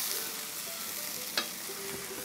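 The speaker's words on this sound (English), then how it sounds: "And keep those onions moving. They're getting a little bit caramelized." Onions being stirred as they fry and begin to caramelize in a pan for Indian spiced seitan, a soft steady sizzle with a single sharp scrape of the utensil partway through, no talking.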